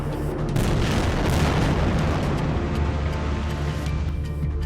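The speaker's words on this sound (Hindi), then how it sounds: "इजराइल के तूफानी हवाई हमलों में बमों के धमाके ऐसे इमारतों को उड़ा रहे हैं" Bombs from airstrikes on Gaza produce a heavy, roaring blast that swells and rumbles continuously, loud and dense throughout with a long low-frequency roll and no speech.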